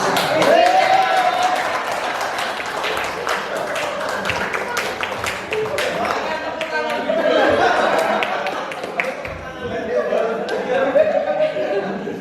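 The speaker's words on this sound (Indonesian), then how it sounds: "Ini tepuk tangan sekali" Applause from a school audience during a positive-culture dissemination session: steady, dense clapping from many hands, moderately loud, with voices talking and chattering over it throughout.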